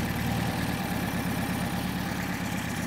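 Porsche 356 engine with Solex 40P11 carburetors idling at about 950 rpm during a tune-up, a steady close, even low rumble with a continuous hum and no change in pace.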